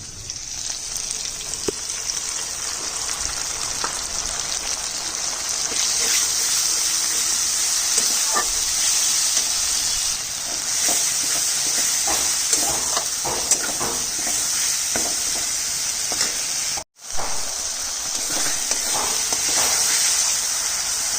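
Spices hitting hot oil in a pan for a catla fish curry, a loud continuous sizzle with bubbling and occasional stirring clicks, briefly cut off near the end before resuming.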